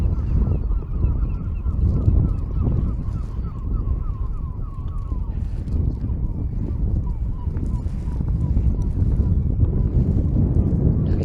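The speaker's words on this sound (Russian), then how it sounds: "А там каждое дерево облеплено птицами. Чайки вроде бы." A flock of seagulls calling from a tree-covered island, heard from a kayak on a lake, repeated honking cries over steady wind noise and water sounds, with people talking nearby.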